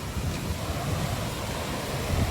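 Floodwater in a swollen river rushes under the Murumgaon bridge, a loud, steady, unbroken roar of flowing water with no voices.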